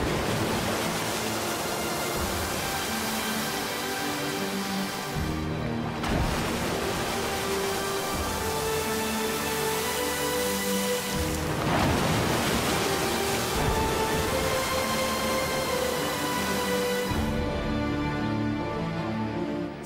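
Bubbling hot volcanic pools amid sulphurous fumes give a steady, dense watery rush and churn that runs the whole time beneath sustained musical tones.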